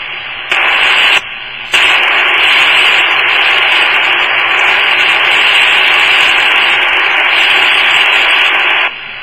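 A Grundig G2 shortwave radio on an external antenna gives off loud, dense static hiss. A brief dropout comes near the start, then the hiss runs on steadily and cuts down near the end.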